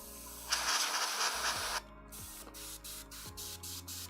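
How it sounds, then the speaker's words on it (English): An airbrush sprays paint onto a model in a long steady hiss lasting over a second, followed by a few soft mechanical clicks and light handling noises close by. "So I'm going to spray and then move it over here."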